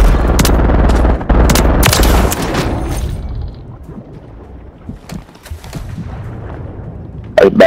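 Gunfire in a battle royale shooter, the Vondel Water Rat game, with several loud bursts of rapid shots early on, then quieter scattered distant pops and a final loud burst at the end.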